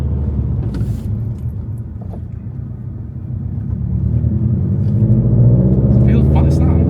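Subaru WRX STI engine and exhaust rumble steadily while driving, a deep droning note that swells louder toward the end, with someone talking over it.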